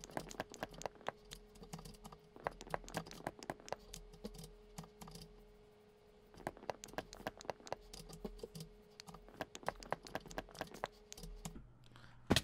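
Trees are chopped in Minecraft with quick, regular tapping hits in long runs, faint and close, broken by a short pause in the middle.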